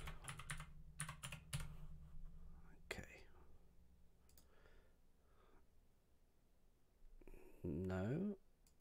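Computer keyboard typing while entering a key prompt during a Ubisoft+ game activation on GeForce NOW, with quick bursts of keystrokes up close, some breathy murmuring and a short tonal whine near the end.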